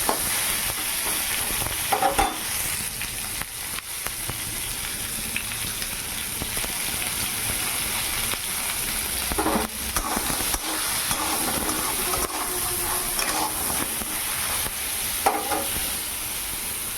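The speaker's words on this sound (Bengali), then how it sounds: "লবণ লঙ্কা হলুদ দিয়ে ভালো করে পটলটা ভাজা ভাজা করে নেব।" Pointed gourd (potol) frying in a pan with salt, chilli and turmeric, a steady sizzling hiss throughout with occasional stirring scrapes, no voices.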